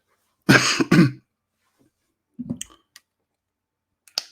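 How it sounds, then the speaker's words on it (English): A burst of two or three harsh close coughs, then quiet with a faint throat sound and a couple of small clicks. "I'm coughing the wrong way."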